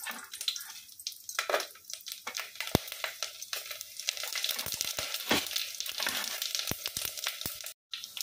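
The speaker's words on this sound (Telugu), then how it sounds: "నెయ్యి కూడా ఇలా కరిగిపోయిన తర్వాత ఇందులో మసాలా అన్నీ వేసుకొని వేయించుకోవాలండి." Whole spices frying in hot oil and melted ghee for a homemade dum biryani, giving a steady close sizzle and crackle with occasional stirring scrapes throughout and no talking.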